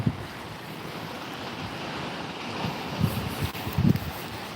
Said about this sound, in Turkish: Buraya kadar dalgalar gelmiş.